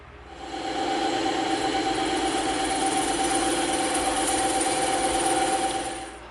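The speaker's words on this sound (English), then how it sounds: "we're going to cut out this curve on the bandsaw" Bandsaw cutting a curved shape through EVA foam for a lightsaber prop, a steady loud motor drone with blade hum that rises in, holds for several seconds and tapers off, no talk.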